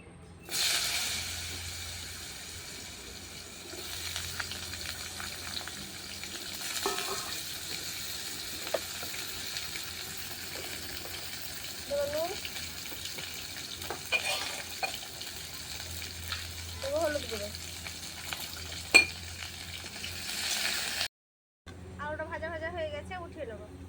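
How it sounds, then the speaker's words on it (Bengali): Potatoes frying in oil in a wok on a clay stove, a soft continuous sizzle and hiss with occasional stirring scrapes, fairly quiet, ending with brief talk. "প্রথমে আলুটা ভেজে নেবো লাল করে"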